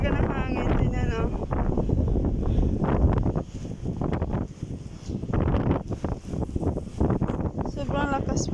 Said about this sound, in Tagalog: Malakas na talaga ng hangin.